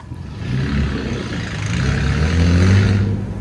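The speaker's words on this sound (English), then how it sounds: "I just saw the bus stop and go" A bus pulling away from a stop, its engine rumbling low and building steadily as it accelerates, fairly close and heard alone.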